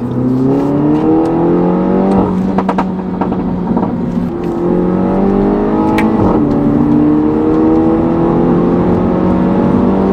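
A Mini John Cooper Works 231 engine, heard from close by, revs hard and accelerates, its pitch climbing through the gears. There are gear changes around 2 and 6 seconds, and the drone stays loud and steady throughout.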